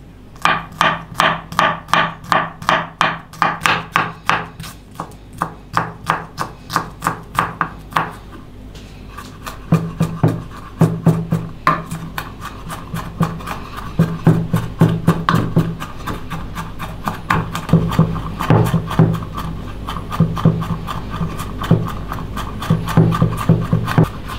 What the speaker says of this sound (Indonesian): Dua siung bawang putih dan 2 siung bawang merah, rajang.